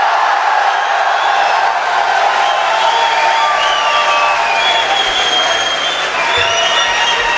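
Sustained, dense applause and cheering from a large audience at an annual Urdu poetry mushaira fills the hall loudly and steadily, a continuous wash of clapping.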